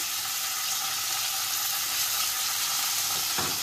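Ginger paste sizzles steadily in a pan of cauliflower for a Bengali cauliflower pulao, a continuous close frying hiss with no talk over it.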